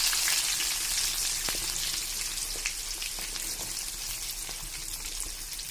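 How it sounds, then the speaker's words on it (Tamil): Onions and green chillies frying in a pan for fish curry, a steady bright sizzle holding throughout with a few soft stirring clicks, close and alone. "வெங்காயமும் பச்சை மிளகாவும் நல்லா வதக்கி விடுங்க"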